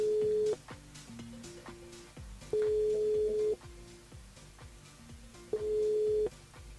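Telephone line tones during a French-language radio call-in show, three long steady ring tones spaced a few seconds apart, with softer dialing beeps and line tones in between, clear and alone without talk.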